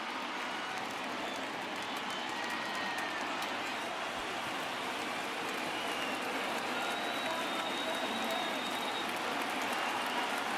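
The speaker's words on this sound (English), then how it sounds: "Crowd gets up for the 3-2." A large baseball crowd at an NLCS game roars steadily as fans rise for a full count, a dense, continuous wash of cheering and applause with no break across the whole stretch.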